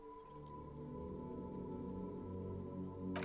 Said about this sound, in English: Sheets of rain over the water